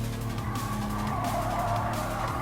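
A DS3 Racing car engine in the Gran Turismo Sport racing game, a steady droning, revving tone with shifting pitch that stays loud and continuous throughout, with no voices over it.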